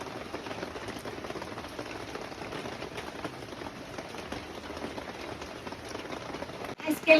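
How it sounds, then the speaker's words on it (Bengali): Heavy rain falls outside with a soft, steady patter that continues throughout, ending in a couple of louder knocks close by. "আজকে বাইরে অনেক বৃষ্টি, প্রচুর পরিমাণ বৃষ্টি"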